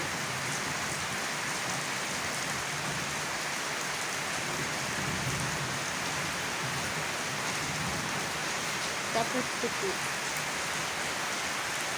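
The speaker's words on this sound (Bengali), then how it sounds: "এখন কীভাবে পানি পড়তেছে বৃষ্টি পড়তেছে" Heavy rain falls at night in a dense, constant patter and wash that is loud and close, with a few words spoken briefly near the end.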